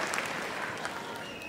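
Crowd applause fills the arena at Crufts 2019 after the West Midlands Police Dog Display, a steady dense clapping that holds at an even level throughout, with no voices over it.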